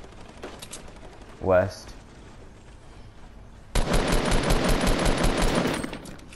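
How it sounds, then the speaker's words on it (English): Gunfire in Fortnite: a lone swelling shot or whoosh early, then a sustained rapid burst of automatic fire for nearly three seconds, loud and close, with a brief spoken word beforehand. "I'm getting shot at."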